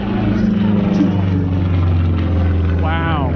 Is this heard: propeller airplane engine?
yes